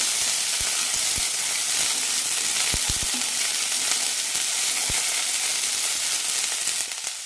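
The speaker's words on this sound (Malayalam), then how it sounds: "ചെറിയുള്ളി ഇതുപോലെ ചോക്കുമ്പോൾ കഷ്ണങ്ങൾ ഇടാം. രണ്ട് 3 മിനിറ്റ് നന്നായി വഴറ്റാം." Long bean pieces sautéed with shallots in a pan give a loud, steady frying sizzle, broken by a few sharp clicks of a spoon against the pan.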